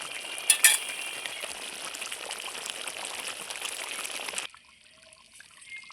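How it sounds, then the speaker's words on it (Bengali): Cooked chicken do pyaza being poured from a hot pan into a bowl: a wet, sizzling slide of thick gravy with a few scrapes, steady for about four seconds before cutting off sharply to near silence. "এই যে বন্ধুরা আমি ঢেলে নিচ্ছি একটা পাত্রের মধ্যে"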